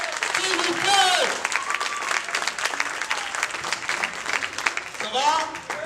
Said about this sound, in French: Sur vos applaudissements, on va l'accueillir, s'il vous plaît.